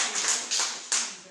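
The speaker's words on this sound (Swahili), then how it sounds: "Pigia Yesu makofi vizuri" A church congregation claps for Jesus during a sermon: a short burst of dense, crowded applause that swells in a few rhythmic waves before fading.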